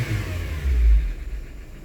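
The engine of a high-mileage Honda Civic with a suspected bad mass airflow sensor, revving as the accelerator is pressed: a low, moderate engine hum that swells to a brief peak and then settles back down.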